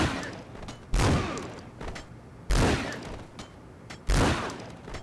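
Automatic gunfire from a tactical shooter video game, heard as three heavy, loud bursts spaced about a second and a half apart, each hitting hard and then trailing off before the next.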